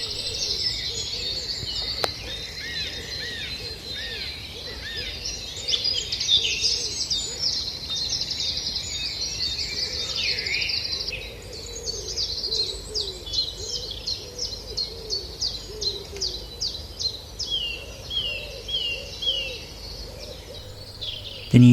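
Dawn chorus in woodland: wrens, a song thrush repeating its phrases and wood pigeons cooing in the background, with a dense run of rapid trills and chirps, then a series of regularly repeated notes, moderately close, with no talk.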